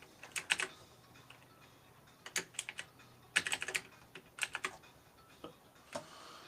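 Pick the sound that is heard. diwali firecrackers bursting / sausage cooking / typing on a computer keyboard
typing on a computer keyboard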